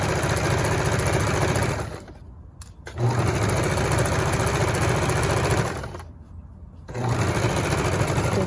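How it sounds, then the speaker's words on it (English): A sewing machine stitching around the edge of an in-seam pocket bag on simplified pajama pants, a loud close whirring run broken by two short pauses before starting up again. "you're gonna stitch around the edge of the pocket"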